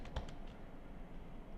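Several soft, quick keystrokes on a computer keyboard click faintly at the start, followed by quiet room tone.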